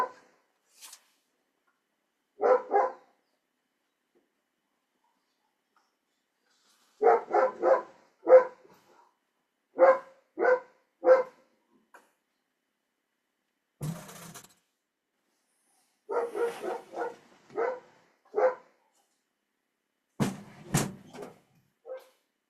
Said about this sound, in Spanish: Ay, señor, este perro.